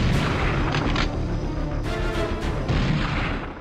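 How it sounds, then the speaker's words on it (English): Grenade launcher fire in the PS2 game Dead to Rights, heavy booming bursts with several sharp reports and rumbling tails, loud and close, no talking. "is that a grenade launcher?"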